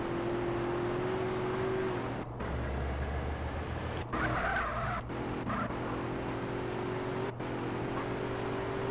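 A slow car in GTA San Andreas Definitive Edition drives with a steady engine drone, breaking into loud tire squeals and skids midway, with no talking.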